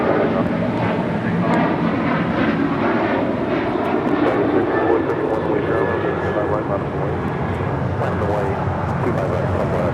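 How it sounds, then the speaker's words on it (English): A Delta Airlines Boeing 737-800 takes off at LAX with a loud, sustained jet engine roar that holds steady throughout, while people talk over the noise. "This is Delta Airlines 1857 taking off to Puerto Vallarta on a 737-800."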